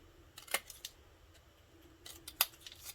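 Scissors snipping angles into a flattened paper box, two short clusters of crisp cutting snips separated by a quiet pause, close and faint with no talking.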